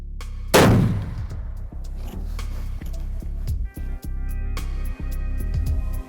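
A 7mm Ultra Mag rifle firing a 180 grain Berger VLD bullet on a South Texas hunt lets off a single sharp, loud shot that rings out briefly, then quieter clicks and rustling follow.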